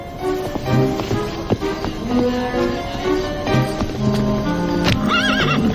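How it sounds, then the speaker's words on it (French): A horse whinnies loudly while hooves clip-clop steadily nearby, with a second high neigh near the end. "Oh, c'est mon cheval."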